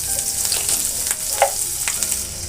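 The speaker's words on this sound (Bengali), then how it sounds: "এবারে আমি একটু পেঁয়াজ কুচি দেব এর ভিতরে" Chopped onion frying in hot oil tempered with dry chilli, nigella and whole cumin, a steady close sizzle with a few sharp pops and crackles throughout, no talking.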